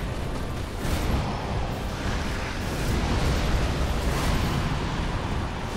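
Fire spell cast in Dark Souls 3 against the Nameless King, a dense roaring whoosh of flame that swells and surges steadily for several seconds, loud and close.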